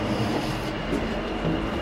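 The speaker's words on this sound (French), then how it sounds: "On prend l'ascenseur, on prend le métro." A Rotterdam metro train rumbles steadily along the track, a dense, continuous roar of wheels and carriage noise heard from inside with no voices.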